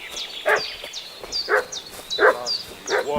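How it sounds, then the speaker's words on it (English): A dog barking in the medieval game Kingdom Come: Deliverance II, several sharp barks at an even pace, fairly close, with quieter chirping calls in the background. "What's that dog making such a fuss about?"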